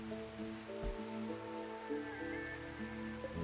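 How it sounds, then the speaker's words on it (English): Rain falling in the video game Rimworld, a soft steady patter and wash under sustained low musical tones, with no talking. "hopefully this rain will help with the crops"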